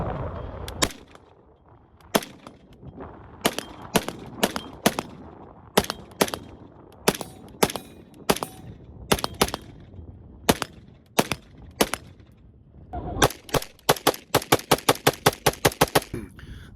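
Rifle shots from a Modern Materiel Patrol M4, sharp and loud, fired singly and in pairs at an uneven pace, then a fast string of rapid shots near the end.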